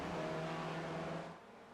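Masters class race cars lapping at Bathurst in a racing sim, a faint engine drone that holds steady and then fades out after about a second.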